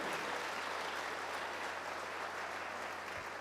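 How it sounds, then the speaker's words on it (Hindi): A church congregation claps during a sermon, a faint but continuous roar of many hands with no speech over it. "जोर नाल ताली बजाओ और तारीफ करो परमेश्वर दी।"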